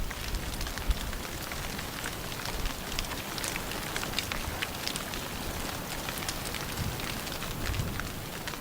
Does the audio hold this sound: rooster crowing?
no